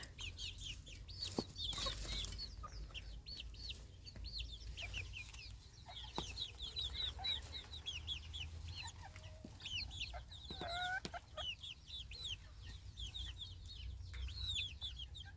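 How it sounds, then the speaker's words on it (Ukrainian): A young dwarf hen clucks steadily among other chickens, with soft repeated clucks and chirps, close and moderately loud over a low background hum. "Ось наш карликовий. оце різдвяна курочка."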